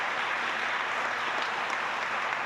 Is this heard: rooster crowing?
no